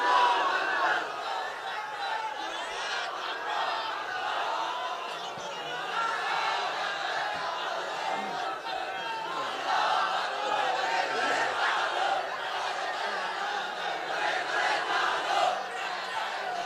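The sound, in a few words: audience chanting slogans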